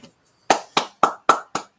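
A few sharp hand claps in a quick, even rhythm, close and loud, after a couple of soft taps, at a wrestling podcast recording with no speech.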